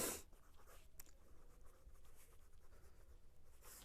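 A pen moving across paper while a maths equation is worked out, giving a faint, close scratching that runs continuously for a few seconds with light strokes and taps, and no talking.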